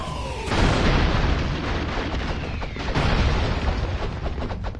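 Explosions in the run-and-gun video game Broforce, a continuous loud wash of booms and blasts with dense crackling debris that barely lets up, heard without talk.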